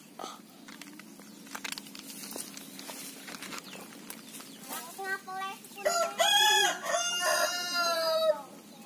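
A rooster crows loudly and close, with clucking and rustling footsteps beforehand in an outdoor yard.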